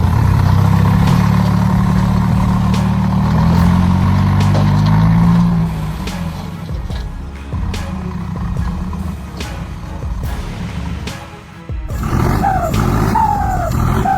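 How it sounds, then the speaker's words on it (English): A large dump truck backs up on an off-road site, its engine giving a loud, steady low roar that eases after about six seconds, with a few higher whining tones near the end. "The roar of the engine echoed, drowning out the wind."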